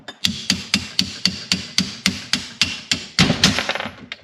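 Hammer blows on pliers slid over a snowmobile shock bushing during removal of Ski-Doo rMotion KYB shocks: about a dozen sharp metallic taps at a steady quick rhythm, close and loud, ending in a denser flurry.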